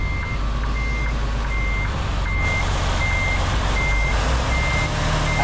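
Steady, evenly spaced reversing beeps from a truck in the American Truck Simulator game, repeating under a loud continuous engine and road rumble.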